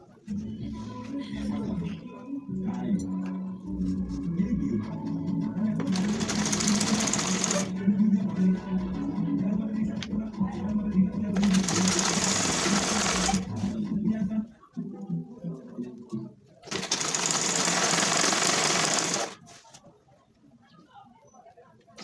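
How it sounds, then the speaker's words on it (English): A sewing machine stitches palazzo pant pieces from the hip down in three loud, steady bursts of fast whirring, each lasting a few seconds, while a person talks between and under them. "I'm going to be sewing it from the hip part from the top to the bottom"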